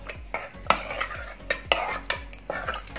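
Cooked ambadi (sorrel) greens being mashed in a pot, heard as a steady, rhythmic series of soft thuds and scraping strokes, repeated about every half second, close up and alone.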